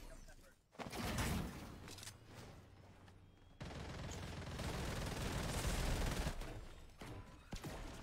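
Rapid bursts of gunfire ring out in a GTA role-play game session, dense crackling volleys that come and go in loud clusters, with players talking over the shooting.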